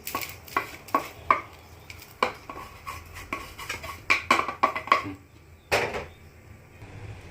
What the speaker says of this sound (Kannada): ಈಗ ಇದನ್ನೊಂದು ಪ್ಲೇಟ್ಗೆ ಟ್ರಾನ್ಸ್ಫರ್ ಮಾಡ್ಕೊಳ್ತೀನಿ